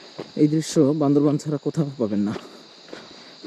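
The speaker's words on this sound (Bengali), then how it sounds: "জঙ্গল থেকে ভেসে আসতেছে ঝিঝি পোকার শব্দ" Crickets chirp in a Bandarban jungle with a thin, steady high-pitched drone that stays faint under someone speaking close by.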